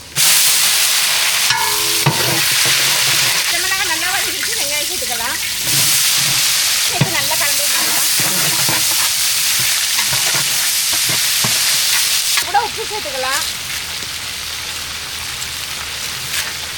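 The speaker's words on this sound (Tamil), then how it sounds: "பிரியாணிக்கு வெங்காயம் நல்லா வதக்கிடுச்சு" Onions sautéing in a hot pan for chicken biryani give a steady, loud sizzle and crackle throughout, with occasional stirring scrapes and brief faint voices in the background.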